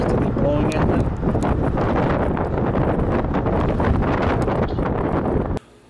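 Steady wind roars across an open volcanic beach lined with sideways-bent trees, a loud continuous buffeting on the microphone for about five and a half seconds before it cuts out abruptly.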